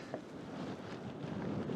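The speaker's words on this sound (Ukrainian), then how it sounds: "Чим більше ви підіймаєтесь сходами, вітер стає сильнішим." Strong wind buffets the microphone on a stairway climbing toward a mountain peak, a steady low rushing roar lasting the whole short stretch with no voices.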